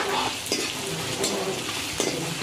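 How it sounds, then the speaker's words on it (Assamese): Onion dropped into hot oil for a chicken dish, a steady close sizzle and crackle with a few sharp stirring scrapes against the pan. "এফালে তেল গৰম হৈ গল আৰু এতিয়া ইয়াত দিম পিয়াজ"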